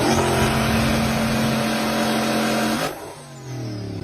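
Ford Mustang and Dodge muscle cars racing, a loud, steady engine roar with a sustained high whine that suddenly drops away near the end as the revs fall and the cars pass.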